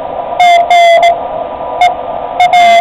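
Morse code tones from an amateur radio receiver fitted with a narrow filter, short and long beeps in irregular bursts over a steady band of background hiss.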